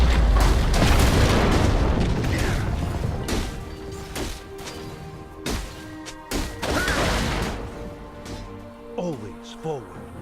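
A turret falling in League of Legends: a heavy crashing boom followed by scattered impact thuds and mechanical clanks, tapering into lighter game effects, with a voice announcement in the mix.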